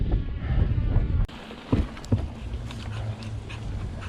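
Dogs pant steadily through wind and motion noise during an outdoor ride among thick aspens. The rumble is heavy and a few sharp bumps break in, with no talking.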